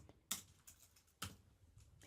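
Quiet, sparse clicks on a computer keyboard, a few isolated keystrokes with short gaps between them.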